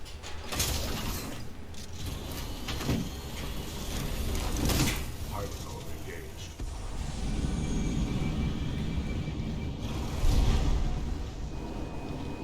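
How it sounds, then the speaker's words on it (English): Construction work outside a door, heard as a continuous indoor background of mechanical clanks, knocks and grinding, fairly loud and steady throughout with occasional sharper bangs; no speech. "construction going on outside my door."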